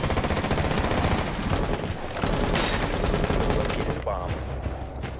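Sustained rapid gunfire in a shooter game, several weapons firing dense overlapping bursts at a big enemy, loud and continuous with brief lulls, with players talking over it.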